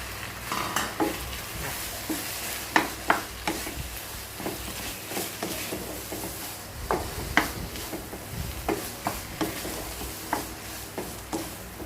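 Pork stirred into curry paste frying in a pan, a steady sizzle under repeated close scrapes and clinks of a spatula against the pan, no voices.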